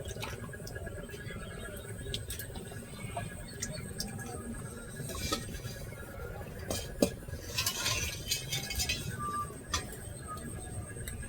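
Tomato pulp is pressed through a metal sieve into a can, giving quiet scraping, light metallic clinks and soft wet drips, with a few sharper knocks against the rim.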